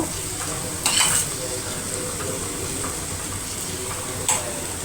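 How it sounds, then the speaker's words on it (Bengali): A spice paste for a coconut pomfret fish curry sizzles steadily in a pan up close while being stirred, with a couple of brief scraping clinks against the metal breaking through. "মশলাটা একটু ভালো করে কষিয়ে নেব।"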